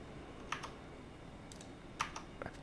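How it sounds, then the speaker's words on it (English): A few scattered keystrokes on a finicky computer keyboard, sharp clicks in small clusters against a quiet room background. "Why is this keyboard so finicky compared to my other one?"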